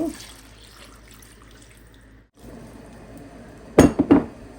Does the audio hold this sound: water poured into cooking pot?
yes